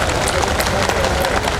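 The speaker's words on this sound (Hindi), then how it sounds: "एक बार तालियां बजाइए।" Applause from a crowd at a religious discourse gathering, a dense continuous patter of many hands filling the space, loud and close throughout with no pauses.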